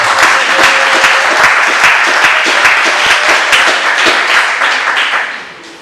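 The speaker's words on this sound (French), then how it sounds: "Est-ce que quelqu'un peut venir nous prendre l'acclamation pour lui?" A church congregation at a Bible institute gathering applauds a mission candidate with loud, close, crisp clapping, individual claps standing out, fading near the end.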